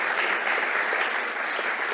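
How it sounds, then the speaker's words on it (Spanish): Audience at a university keynote talk applauds a speaker with brisk, continuous clapping, dense and even throughout the short stretch with no voices over it. "un aplauso para Daniel"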